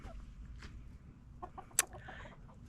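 Quiet, soft clucking from chickens nearby, a few short calls over a low background hum.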